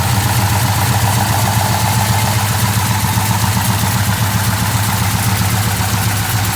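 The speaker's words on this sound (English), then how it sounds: "I'm going to go ahead and get the hood popped and get it started so you can hear it running" A modified 461 V8 in a 1964 Plymouth Fury Sport idles steadily under an open hood, a loud, even low rumble with a constant throb and no pauses throughout.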